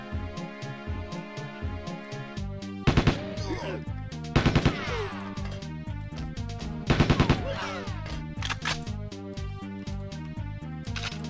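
An automatic M14 rifle firing in the Goldfinger 64 mod of Goldeneye 64, with rapid bursts of synthetic gunfire repeating over looping game music, loud and upfront.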